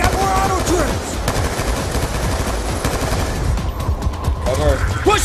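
Auto turrets blaze away in Black Ops 2 with loud, sustained machine-gun fire and overlapping bursts, mixed with battlefield noise and shouted voices throughout.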